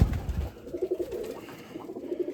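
Pigeons in a dovecote coo softly in low, rolling phrases, faint and somewhat distant amid a little rustling.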